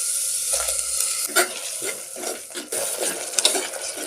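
A spoon scrapes and stirs ground tomato paste into a ginger-garlic masala frying in a pan, giving a steady hiss with repeated clinks and scrapes up close.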